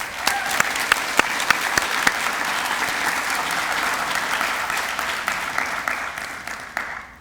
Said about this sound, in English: let's give all of the family members a huge round of applause